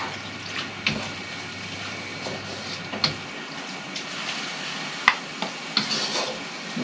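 Pancit noodles and ingredients stirred in a pan, with scraping and clanks of a utensil against the metal over a steady sizzle, a few sharper knocks standing out.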